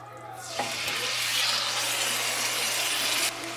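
Steady sizzling of food frying in a pan starts abruptly and crackles on evenly, close by, with no talking.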